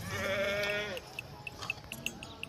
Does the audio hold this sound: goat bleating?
yes